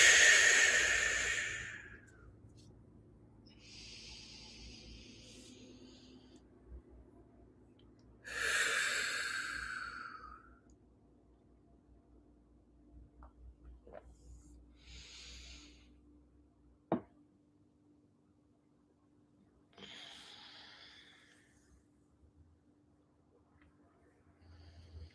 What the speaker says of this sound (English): Taking a deep breath in through the nose. Exhale it fully.